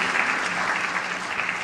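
A studio audience gives a brief burst of loud, close clapping that stays full and steady throughout, with no talking over it.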